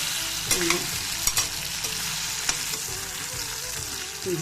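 Colocasia frying in oil with tamarind and chili, a continuous close sizzle broken by sharp scrapes and clicks of a stirring spoon against the pan.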